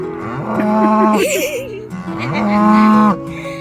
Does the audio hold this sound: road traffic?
no